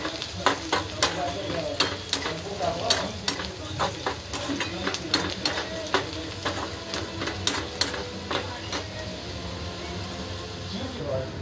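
Onion frying in a pan for a drumstick-leaf vegetable dish, with a steady close sizzle broken by frequent sharp scraping stirs of a spatula against the pan.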